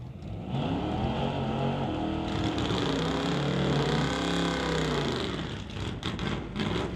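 A 1958 Oldsmobile and a 1970 C10 roll out at a drag strip, their engines rumbling loud and close in a sustained, rising-and-falling roar that fades away near the end.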